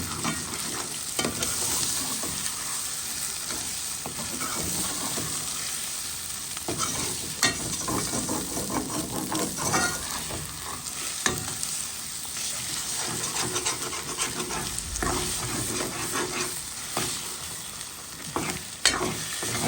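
Salted tails frying with potatoes and eggs in a pan are stirred steadily, giving a continuous sizzle broken by repeated scraping and clattering of the utensil throughout, with no talk.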